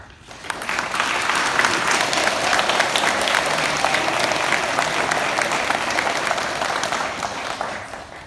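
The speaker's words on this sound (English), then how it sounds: "We deserve ourselves a round of applause." A graduation crowd applauds for grade 8 students, the clapping swelling in after a brief quiet start and holding as a loud, dense, even roar of many hands until it fades slightly at the end.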